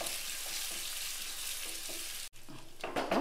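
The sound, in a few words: small onions (shallots) frying in oil for tempering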